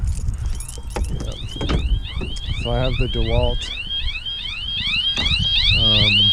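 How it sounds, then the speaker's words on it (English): A jobsite trailer's security alarm starts up as its door is opened, sounding repeated rising electronic chirps and tones, loud and close, while someone talks over it and some rattling occurs. "Oh, it's my alarm's gonna go off here, so sorry about that."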